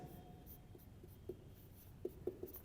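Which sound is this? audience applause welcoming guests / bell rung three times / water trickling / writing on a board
writing on a board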